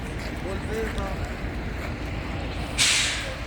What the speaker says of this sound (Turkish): O kadar canlı cadde şu anda enkaz, kamyon, vinç sesleri.